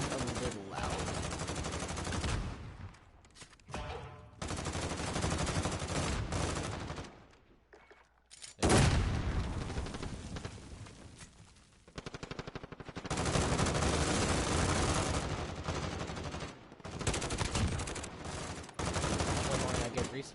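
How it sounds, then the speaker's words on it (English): Gunfire from Call of Duty: Modern Warfare: loud bursts of rapid automatic fire and heavy shots in long stretches, with a short lull in the middle before the shooting starts up again. "The guns sound a little loud."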